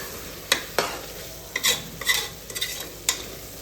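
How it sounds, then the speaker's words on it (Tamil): Green chillies and tomatoes are stirred in a pan for mushroom biryani, with a spatula scraping in several sharp, uneven strokes over a soft background sizzle and no voices. "தக்காளியும் ஆட் பண்ணிக்கலாம் நல்லா மிக்ஸ் பண்ணுங்கள்"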